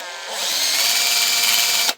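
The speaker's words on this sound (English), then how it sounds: "After a little bit of drilling" Power drill boring out a part to size for a motorcycle build, a steady loud whine running about two seconds before cutting off abruptly.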